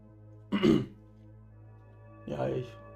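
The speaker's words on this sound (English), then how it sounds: "need to clear my throat" A person clears their throat twice, a short harsh burst near the start and a second one about two seconds later, close to the microphone over a faint steady hum.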